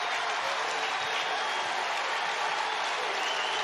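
Baseball crowd at Camden Yards, many Mets fans, cheering and clapping after a Pete Alonso two-run homer; a dense, continuous roar throughout.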